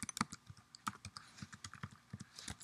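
Rapid, light keystrokes on a computer keyboard as a username is entered, a quiet, close run of irregular clicks with no voices.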